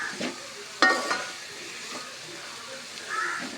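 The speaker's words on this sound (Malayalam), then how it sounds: "ഇനി അത് നന്നായിട്ട് വഴറ്റി കൊടുക്കും" Onions being sautéed in a pan for chicken curry: soft sizzling with a few sharp scrapes and clinks of a spoon against the pan, fairly quiet and close.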